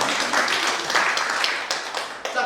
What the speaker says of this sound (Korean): 저기 희망 박수 한번 드립니다